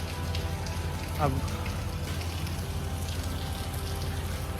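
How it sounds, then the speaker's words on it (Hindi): Steady rain falls and patters on surfaces at a highway toll plaza, a dense, even hiss running throughout, with a brief voice heard and faint traffic noise mixed in. "तो देख सकते हैं किस तरह से बारिश हो रहा है।"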